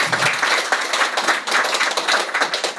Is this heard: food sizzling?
no